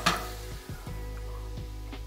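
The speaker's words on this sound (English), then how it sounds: "Onion stir." Onions sizzling in a pan as they are stirred, a soft steady fry with a few quick scraping strokes of the utensil, close and fairly quiet.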